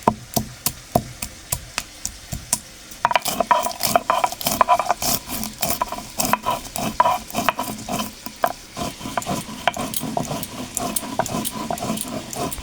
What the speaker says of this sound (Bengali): আর এইদিকে আমি এখন মশলাটা বেটে নেব।